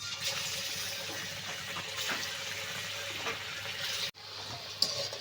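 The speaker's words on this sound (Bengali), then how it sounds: "বাকিগুলো একই রকমভাবে আবার ভেজে নেব" Steady crackling sizzle of banana fritters deep-frying in hot oil, continuous and fairly quiet, with a brief clink near the end.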